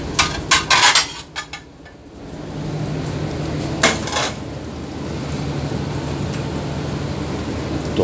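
Plates and dishes clatter in a busy kitchen: a burst of close clinks and knocks at the start and another around the middle, over a continuous hissing background.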